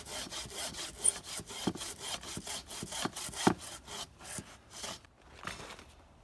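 A hand saw cuts rhythmically through wood while limbs are trimmed from a downed tree outdoors, with steady back-and-forth strokes that pause near the end before a few lighter passes.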